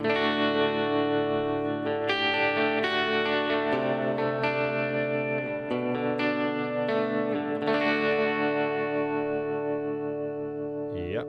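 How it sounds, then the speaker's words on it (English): A sustained guitar chord and melody through an amp with tremolo, a pulsing, wavering volume effect, played loud and continuous with no talking. "And then let's turn the tremolo on."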